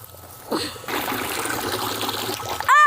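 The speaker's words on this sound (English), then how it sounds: "Put them in until the bubbles stop bubbling." Water trickles and gently bubbles as it is poured onto potted clearance plants, starting softly and then running as a steady, close trickle until a brief burst at the end.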